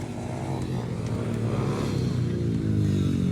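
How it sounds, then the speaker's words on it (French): Several motorcycles roll past in a parade, a steady, loud engine drone with rising revs that stays close throughout and carries no talk. "Ah, le défilé de moto."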